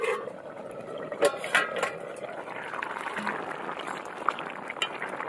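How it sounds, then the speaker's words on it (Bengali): A lid goes onto a cooking pot of hilsa fish simmering with cauliflower: a couple of quick metallic knocks over a soft, steady sizzle and bubbling, with no voice. "এবার ঢাকা দিয়ে দেবো।"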